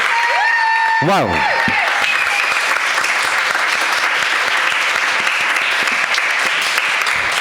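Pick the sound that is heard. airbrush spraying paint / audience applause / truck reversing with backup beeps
audience applause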